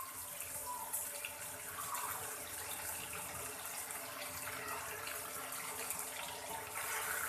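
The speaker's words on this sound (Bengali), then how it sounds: "এখন এর মধ্যে আমি দিয়ে দেব ঝোল পরিমাণে জল।" Water poured into a pan of fried cauliflower pieces for a curry, a steady splashing pour that runs for several seconds at a moderate level, no voices over it.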